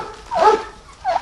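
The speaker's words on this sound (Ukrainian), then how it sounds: "Собака наша." A farmyard dog among turkeys and young chickens lets out two short, yelping barks a moment apart, close and fairly loud.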